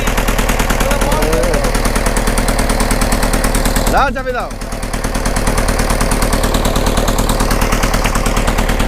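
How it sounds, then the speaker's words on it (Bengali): A smoking boat engine runs throughout with a loud, fast, evenly pulsing mechanical chug close by, dipping briefly under a burst of nearby sound partway through. "মেশিন চলছে হ্যাঁ।"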